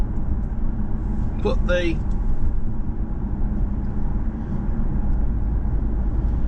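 Inside a moving BMW car, a steady low road and engine rumble fills the cabin throughout, with a short voice heard briefly early on.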